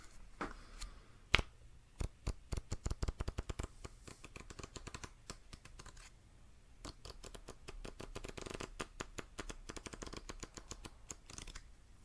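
A deck of playing cards being shuffled, with rapid riffling bursts and crisp snaps repeating close up, separated by brief quiet pauses.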